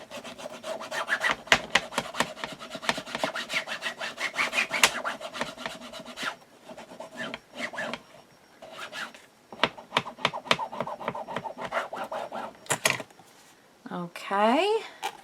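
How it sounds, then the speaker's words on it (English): Paper in a handmade recipe book is burnished down with close, quick rubbing and scraping strokes in uneven bursts with short pauses, ending in a brief rustle and a faint vocal sound. "let's go ahead and burnish this down"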